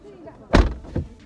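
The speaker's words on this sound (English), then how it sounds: "And close the door." A car door shuts with a solid thump, followed by a softer second knock, close by with a voice audible around it.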